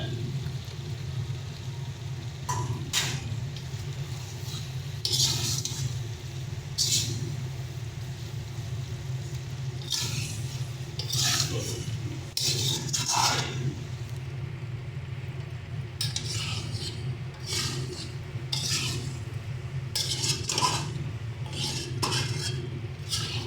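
Fried potatoes stirred into chicken curry in a pan, with repeated scraping and clinking of a spatula against the metal over a steady low hum of cooking and kitchen background; no talking.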